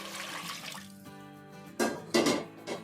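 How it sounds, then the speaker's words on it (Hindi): Water is poured into a pot of simmering kadhi while cooking, a brief splashing and gurgling pour that comes in short bursts near the end, close by and fairly quiet. "अभी इसमें मैं और पानी डालूंगी क्योंकि मुझे कड़ी को ना अच्छे से पकाना है।"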